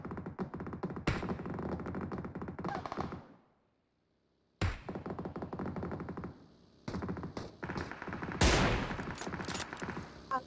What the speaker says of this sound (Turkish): Gel M4 açacağım sana.